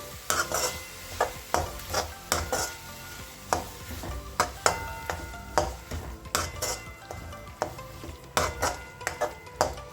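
A spatula stirs matki (moth bean) and potato curry with curry leaves and sambar powder in a pan. It makes repeated scraping clinks against the metal over a light sizzle, close and rhythmic, with no talking.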